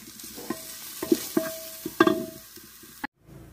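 Chopped onion and garlic sizzle in a pan while being stirred, with scraping utensil knocks and a faint tone midway, close and moderately loud, cutting off abruptly near the end.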